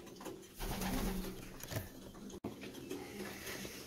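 Racing pigeons, including young chicks, coo softly and steadily inside a loft, a low murmuring chorus with faint rustling and shuffling, briefly cut by a sharp gap before the cooing resumes.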